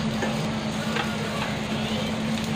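Cumin seeds sizzle in a small amount of hot oil in a pan while a spice mix is prepared, giving a steady close frying hiss with a low hum underneath and no talking.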